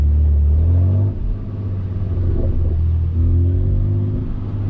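Straight-piped 650HP BMW F80 M3 exhaust droning loudly from inside the car, a deep steady rumble with a brief dip and swell as the engine eases off and picks back up.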